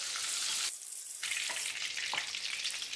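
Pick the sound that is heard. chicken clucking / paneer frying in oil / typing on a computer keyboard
paneer frying in oil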